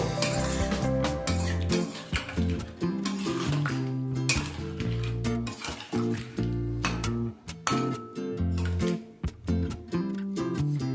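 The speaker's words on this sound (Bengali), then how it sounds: "এবার সব কিছু একবার ভালোভাবে মিশিয়ে নেব।" A vegetarian potato curry with green chilies is stirred in a pan, with repeated close scraping and clanking of a spoon against metal over a soft sizzle.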